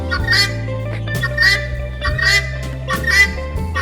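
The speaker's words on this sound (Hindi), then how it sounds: "इसमें कुछ बत्तखे हैं" Ducks in a zoo enclosure, loud repeated quacking and honking calls in several bursts, close by, with a steady low hum underneath.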